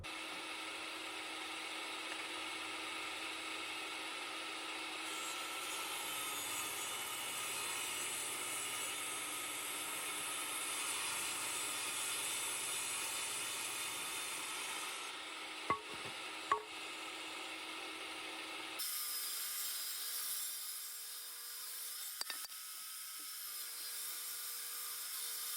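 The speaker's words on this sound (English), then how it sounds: "it's time to go over to the table saw and rip stuff down to about 3 inches wide" A table saw rips wood boards down to narrow strips, a steady, close whine of the blade running through the cut for about nineteen seconds before the pitch shifts as the board clears and the saw keeps spinning.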